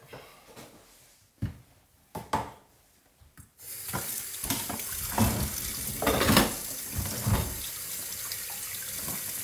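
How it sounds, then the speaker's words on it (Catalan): Tap water runs steadily into a kitchen sink while cuttlefish is rinsed for black rice, a continuous close splashing stream after a few brief knocks and handling sounds at the start. "Ho duis tot, ara sí, a la pica, i ho passam per l'aigua."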